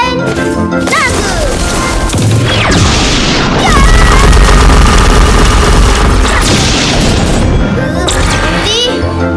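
Dragon ultimate attack in a Roblox game, a dense barrage of loud crashing explosions and booms with whooshing effects, sustained and overlapping throughout.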